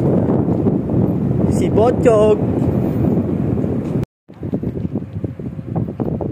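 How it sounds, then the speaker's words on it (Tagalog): Strong wind buffets the microphone in heavy gusts, with a brief whistling cry partway through and a sudden cut before the blustery noise resumes. "Tapos sumasabay pa yung hangin, yung buga ng hangin."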